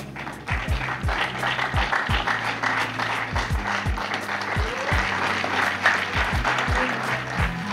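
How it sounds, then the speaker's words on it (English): Audience applause at a university honouring ceremony, with steady broadband clapping throughout and heavy low thumps from the sound system or handling underneath, moderately loud in a large room. "Please round of applause for him"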